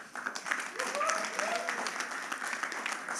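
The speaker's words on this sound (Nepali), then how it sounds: "त्यसैले फेरि एकचोटि ताली हान्नु होला।" Audience applause at the final relay round of a bad-jokes battle: a steady wash of clapping that fills the whole stretch, with voices mixed in over it.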